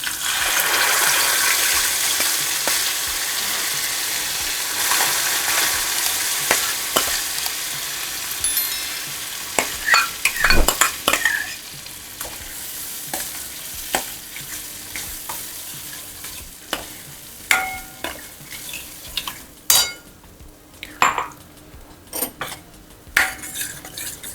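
Cooked dal goes into a spiced tempering with turmeric and chili powder for tamarind-jaggery aamti: a loud sizzle settles into bubbling, while a spoon stirs and clatters repeatedly against the metal pot.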